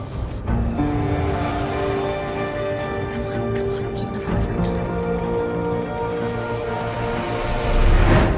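A small drone flies in a tense film scene, its steady motor whine holding a constant pitch throughout, close and fairly loud, with faint voices underneath.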